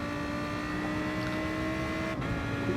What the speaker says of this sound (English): Whereas this Hurricane, the roar of that engine is lovely.